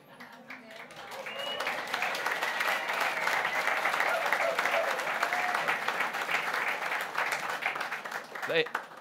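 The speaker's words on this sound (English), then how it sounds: "We could now have a vigorous round of applause" An audience gives a sustained round of applause at a talk, dense clapping swelling to a steady roar for several seconds with faint voices mixed in.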